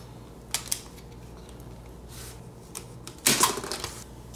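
Plastic for a mini air compressor build is cut near an on-off switch, with a few sharp snips and clicks over a quiet background, the loudest burst of cutting coming toward the end.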